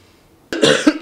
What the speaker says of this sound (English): okay, if you cough there.